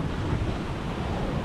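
Large waves surging onto a shore where boats sit, a continuous loud rushing wash roughened by wind buffeting the microphone, with no talking.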